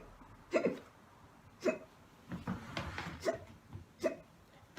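A woman hiccups repeatedly at roughly even intervals, five or six sharp, close hiccups over quiet room tone.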